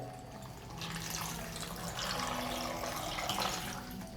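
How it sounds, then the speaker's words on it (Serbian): 500 ml of water is poured into a blender jar of garlic, salt, pepper and basil, a faint, continuous splashing trickle in a quiet kitchen. "Dodajem 500 ml vode"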